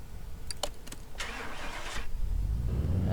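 A car engine in Car Mechanic Simulator 2018 starts up on the dyno after a few short mechanical clicks, then settles into a loud, steady running rumble that builds slightly toward the end.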